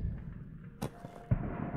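Fireworks in the video game Black Skylands give a sharp whooshing burst followed by a soft thud and then a low rumbling tail, all fairly close.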